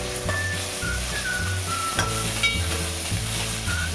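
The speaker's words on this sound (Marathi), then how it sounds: "हे 2-3 मिनिटं परतून घेणार आहोत." Onion, tomato, green chili and asafoetida sizzle steadily in hot oil in a pan for dal khichdi, a close, continuous frying hiss with a few light clinks of stirring.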